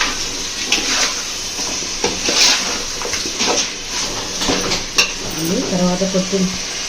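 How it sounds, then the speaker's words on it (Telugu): Chicken with masala stirred in a pan for biryani, with steady sizzling and repeated scraping strokes of a spoon against the pan. A brief low voice is heard near the end. "ఇది మొత్తం చికెన్కి మసాలా పట్టాలండి, అందుకని బాగా కలియబెడుతున్నాను"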